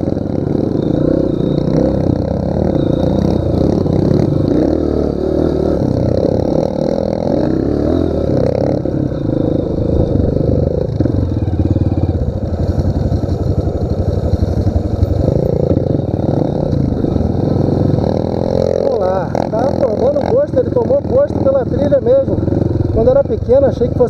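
Small Pro Tork and Honda CRF mini trail motorcycles ride a mountain trail, their engines droning continuously and loudly close by, with buzzing revs rising and falling throughout.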